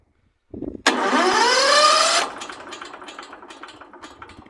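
A wood chipper's engine is started up close: a brief cranking rattle, then a loud rising whine as it catches and runs steadily, before dropping to a rough, uneven idle.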